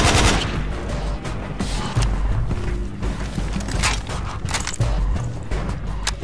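Gunfire crackles throughout a fight in the video game Project Reality, with dense, repeated sharp shots and bursts at close and middle distance, continuing steadily amid battle noise.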